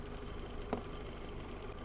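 A hot car engine idles steadily after oil additives and seal conditioner are poured in, a constant low, even hum with faint mechanical ticking and no talk.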